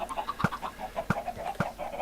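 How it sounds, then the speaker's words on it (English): Several chickens cluck in a Minecraft farm, short repeated clucks overlapping in an irregular rhythm, fairly close and clear with no talk over them. "there's either 20 or just under 20 chickens up the top there, this produces really well"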